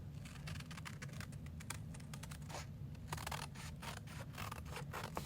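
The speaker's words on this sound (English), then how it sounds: "using our scissors, just kind of fussy cut around here." Scissors snipping around the edges of a piece of designer paper for a handmade card, a quiet, close series of quick crisp cuts and light paper rustles at an uneven pace.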